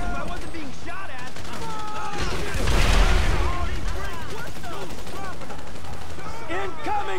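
Bursts of rapid gunfire erupt in a Grand Theft Auto V heist mission as Merryweather mercenaries attack, swelling to a loud dense volley mid-clip amid shouting voices and other game sounds.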